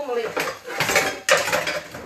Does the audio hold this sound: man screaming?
no